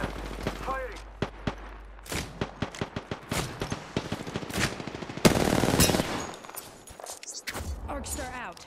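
Rapid gunfire from a shooter video game, Apex Legends, on the King's Canyon map, with bursts of shots, a sustained fusillade in the middle, and game voice lines mixed in between the volleys.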